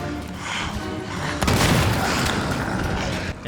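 Explosions and gunfire from the survival horror video game Daymare: 1998 boom and crackle in a dense, continuous barrage, with a heavier blast about halfway through.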